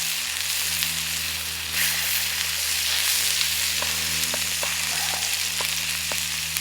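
Pork shoulder sizzling and crackling loudly in a hot frying pan over a titanium wood stove, with flambe, a continuous spitting fry with occasional sharper pops, close by and without talk.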